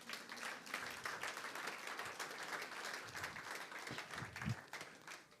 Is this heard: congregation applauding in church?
yes